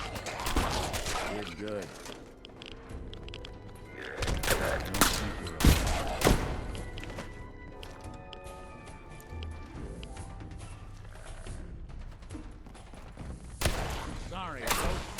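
Gunfire bursts ring out in a Fallout 4 survival-mode firefight with mods, shotgun blasts and rapid volleys cracking loudly and unevenly over several seconds while someone talks between shots.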